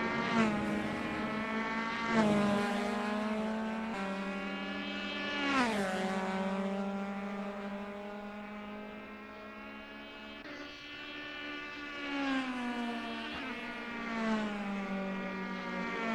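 Fiat 131 race car engine in a racing video game at the Nurburgring, taking the Bilstein Curve. It holds a sustained, buzzy whine that swoops up and down through several gear changes and lift-offs, steady and close, with no talk.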